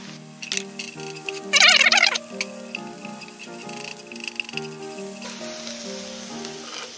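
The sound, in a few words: onion added to stir-frying carrots in a pan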